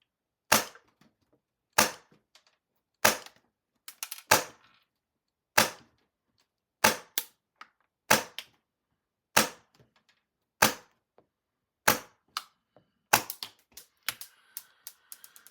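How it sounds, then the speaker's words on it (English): An airsoft MTW-9 rifle fitted with a Wolverine Blinc FCU fires about a dozen sharp, snappy single shots at a steady, roughly one-per-second pace, closing with a quicker cluster of cracks. "So we'll retune again, and I will fire through."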